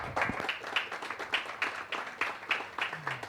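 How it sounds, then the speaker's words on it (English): Applause from an audience at an investor awareness program, a steady patter of many hands clapping at moderate volume, with a low hum underneath. "I think a big round of applause."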